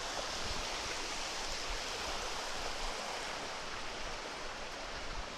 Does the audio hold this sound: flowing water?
yes